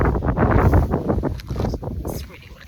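Gusty wind on Ninety Mile Beach, New Zealand, buffets the microphone outdoors, a heavy low rumble rising and falling throughout.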